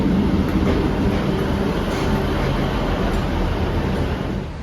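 A train travelling toward Paignton rolls along in a steady, loud rumble of wheels and carriage noise from inside, with a faint rhythmic clatter over the tracks and no talking.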